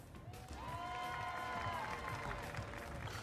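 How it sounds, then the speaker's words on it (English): A crowd at a Mario Kart 8 Deluxe championship applauds and cheers, with a sustained tonal whistle or horn riding over the clapping and a few voices mixed in. "please put your hands together for Shad."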